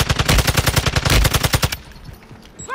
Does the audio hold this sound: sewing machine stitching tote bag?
no